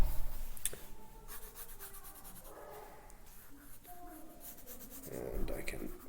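A pencil scratches quickly across paper in short strokes and rubs, close and faint, for a quick sketch with soft breathy sounds alongside.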